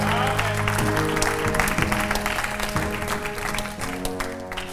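A church congregation applauds and cheers in praise of God, a dense, steady wash of clapping and voices held at full strength for the whole stretch, with musical tones sustained underneath.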